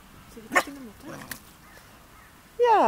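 A white shepherd dog gives a couple of short barks and a yip, then a whining cry at the end, over faint background voices.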